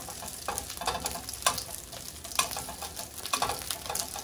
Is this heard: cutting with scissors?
no